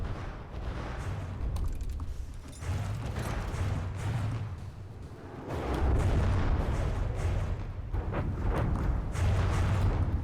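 Cannon fire in the naval combat game From The Depths, a series of heavy booming shots and rumbling impacts rolling one after another at steady loudness with no talk over them.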